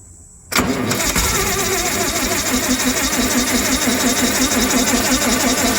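A 1965 Lincoln red face SA-200 welder engine cranks and catches after a brief quiet start, then runs loud and steady in a rumbling idle up close, with no talking.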